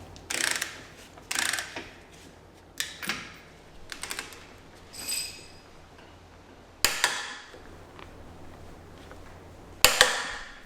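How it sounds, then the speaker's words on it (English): Torque wrench tightening the brake caliper bolts on an Audi Q7 to a high torque, giving several separate ratcheting clicks and sharp clacks spaced a few seconds apart, close by and alone with no talking. "So now we need to tighten up those 2 bolts and then torque them up"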